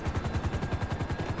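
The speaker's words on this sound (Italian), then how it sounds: "perché mi stanno sparando?" Rapid bursts of GTA V gunfire, a fast even stream of shots crackling in quick succession, with no voices.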